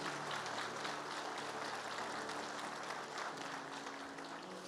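A church congregation applauds steadily throughout, a dense, even wash of clapping that holds at a constant level from start to finish with no voices rising above it.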